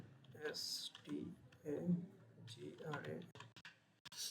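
Computer keyboard typing, a short burst of key clicks while entering a search in a browser, heard faintly beneath someone speaking Bengali who talks through most of the clip.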